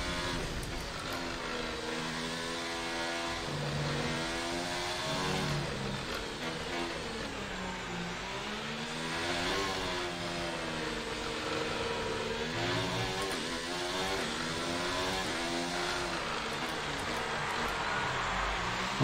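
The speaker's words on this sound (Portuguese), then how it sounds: "Um barulho terrível aparecendo no carro." Damaged Formula 1 car in the F1 2019 racing game at the Brazilian Grand Prix, its engine droning and rising and falling in pitch with a rough, strained tone, steady and continuous with no talk.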